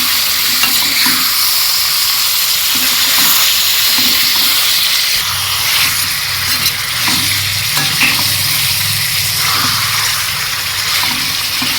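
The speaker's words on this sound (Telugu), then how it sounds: "ఉల్లిపాయలు చికెను కలిసేంత వరకు కొంచెం ఇలా కలుపుకుందామండి." Chicken and onions fry loudly in a curry pan with a steady, dense sizzle, while a utensil stirs them through with occasional scraping. No one speaks.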